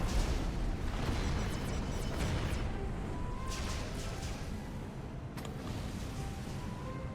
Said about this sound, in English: Oh, the nuke is coming in right here!